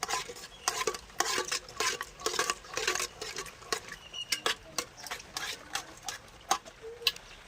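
Potato-pea chaat mixture with food colour being stirred, a quick run of close scraping and clinking strokes against the pan in an uneven rhythm.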